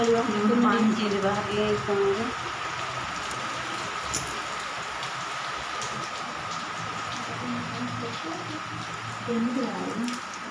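Steady rain falls with a constant soft hiss throughout, while a person talks over it at the start and again near the end.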